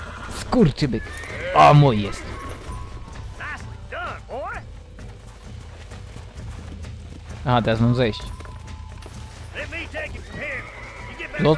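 A horse in the Red Dead Redemption video game whinnies loudly several times, with clip-clopping hooves and game noise in between, while someone talks excitedly over the action.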